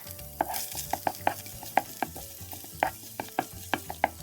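Garlic sizzling in a pan after the meat is removed, with a steady frying hiss under a string of sharp utensil scrapes and taps as it is stirred, close and fairly loud.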